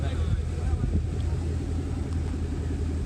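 A steady low engine rumble from a running muscle car at a car meet, constant throughout with a faint background voice.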